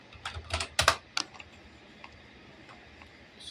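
A computer keyboard clatters in a brief close burst of quick keystrokes, followed by a few scattered taps and quiet.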